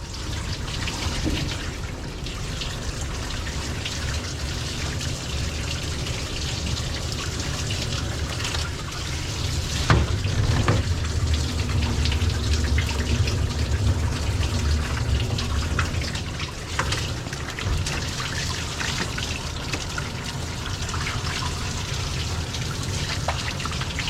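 Water pours and splashes steadily as a dog is rinsed during a bath, a continuous close gushing wash with a brief louder surge partway through.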